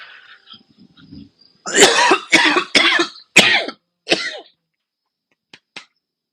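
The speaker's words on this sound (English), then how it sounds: "I'm gonna cough." A run of five harsh, close coughs in quick succession, followed by a couple of faint short sounds and silence.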